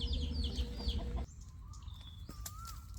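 A gamecock rooster lets out a loud, close crow that breaks off abruptly, followed by quieter bird chirps and whistles in the background.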